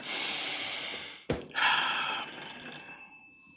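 A telephone rings with a bright, trilling bell, cut by a brief click, then ringing again, clear and fairly close.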